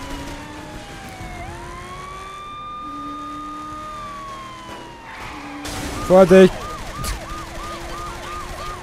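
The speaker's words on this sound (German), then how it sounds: "Ach, die Sirene aus!" A police siren wails in Saints Row: The Third, a steady rising-and-falling tone running through most of the stretch, joined later by a quick warbling yelp pattern and a short loud burst, with someone talking excitedly over it.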